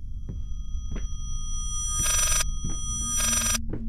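A telephone in the Layers of Fear horror game rings in two bursts of bright electronic trilling, loud and close, with a steady hum and soft low thumps between the rings.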